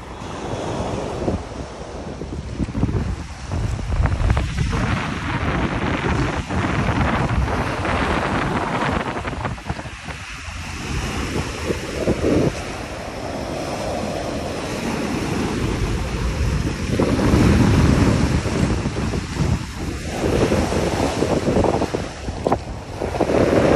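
Sea waves wash in at Dolomite Beach on Manila Bay in rough weather, with strong gusting wind buffeting the microphone over a continuous roar of surf, loud and close.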